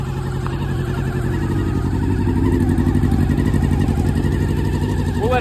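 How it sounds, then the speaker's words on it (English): A 1988 Suzuki GSX-R 1100 with a Katana engine cold-starting and settling into a steady, loud, close rumbling idle with slight revs, no talking. "we'll do a nice cold start for you guys today"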